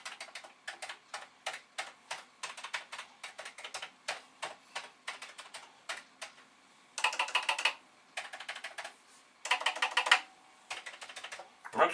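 Keys clack on an original Commodore VIC-20 keyboard, a PET-style design, in a steady run of individual taps followed by denser bursts of rapid typing, close and moderately quiet.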